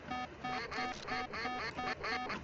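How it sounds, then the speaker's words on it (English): A video game car horn honks with a duck-like quack, repeating about seven times in a quick, even rhythm, loud and close with nothing else around it. "You have a horn that quacks."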